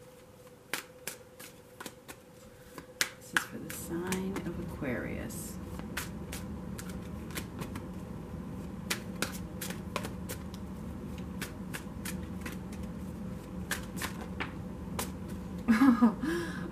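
Tarot cards are shuffled in repeated quick riffles and soft flutters, close and fairly quiet, while someone speaks over them.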